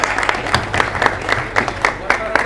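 Devotees clap at a temple gathering honouring the goddess, the rhythmic applause thumping in regular beats under a speaker's voice.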